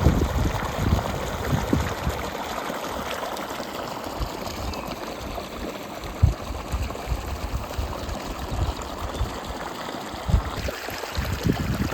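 A strong creek rushes through a resort in Lake Lure, North Carolina, a steady close wash of flowing water with scattered splashes and a few brief knocks, with no talk.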